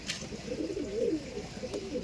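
Giribaj pigeons coo softly in a loft, a low repeated throaty burble close by with no talking.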